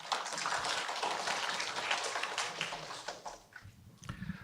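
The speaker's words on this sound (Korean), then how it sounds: "자, 큰 박수 부탁드립니다." Audience applause at a workplace safety and health forum, a dense, steady wash of clapping that fills the room and thins out toward the end.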